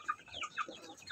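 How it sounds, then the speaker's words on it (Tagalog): Pet chickens cluck softly and briefly at close range while being fed wheat on a rainy morning, giving a few quick, low murmuring notes. "So magpapakain ako ng aking mga alagang manok."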